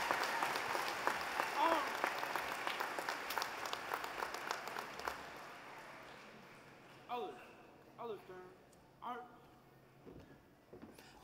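Applause for the Total Force Color Guard from March Air Force Base at a Platt College graduation, a crowd clapping loudly that fades after several seconds as a voice begins speaking over the thinning claps.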